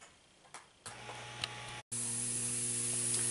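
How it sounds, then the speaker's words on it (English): An air compressor inflating a walk-in chamber kicks on abruptly after a few faint clicks, then runs as a loud, steady hiss with a constant mechanical hum. "So now we'll turn the compressor back on."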